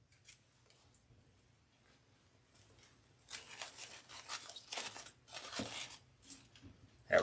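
Scissors snip paper and craft trim for an Easter wreath, a quick run of crisp close cuts after a quiet start, ending in a louder snap.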